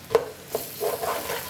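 Garlic frying in a pan, a brief close sizzle with two or three quick stirring scrapes and light utensil knocks, no speech.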